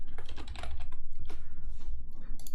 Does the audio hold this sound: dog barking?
no